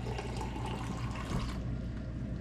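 A cup of water pours into a mason jar, a steady close splashing trickle that thins slightly toward the end.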